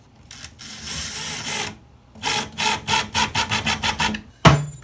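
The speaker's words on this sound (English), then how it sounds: "I'm going to start by adding one of these little self-tapping screws down in the corner." A small self-tapping screw is driven into the corner of a wooden in-wall shelf. A drill buzzes for a stretch, pauses, then runs in a rapid series of short pulses and ends with a sharp final clunk.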